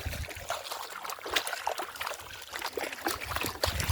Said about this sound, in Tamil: கொஞ்சம் கால் கழுவிக்கலாம்